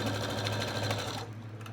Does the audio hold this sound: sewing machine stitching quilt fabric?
yes